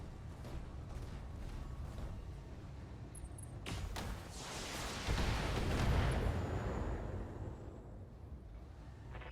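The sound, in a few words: mech weapons fire in BattleTech video game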